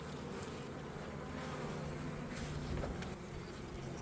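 Honeybees buzz in a dense, steady swarm around an opened hive during maintenance, a continuous close drone with no pauses and no talking.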